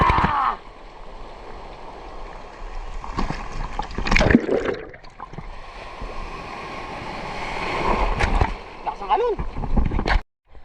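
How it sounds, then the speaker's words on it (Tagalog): Strong sea waves slosh and splash against a boat near a pier, with bursts of water and wind noise rising and falling; a voice speaks briefly over the choppy surf. "Medyo malakas ang alon."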